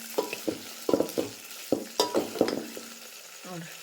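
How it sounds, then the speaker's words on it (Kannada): Onion and green chilies frying in hot oil, with a spoon or spatula scraping and stirring in repeated short bursts over a soft sizzle, close by, no talk. "ಈಗ ಎಣ್ಣೆ ಒಳಗೆ ಈಗ ನೋಡ್ರಿ ಉಳ್ಳಾಗಡ್ಡಿ ಮತ್ತು ಮೆಣಸಿನ್ಕಾಯಿ ಎಲ್ಲ ಸ್ವಲ್ಪ ಫ್ರೈ ಆಗ್ಯಾವ್ರಿ"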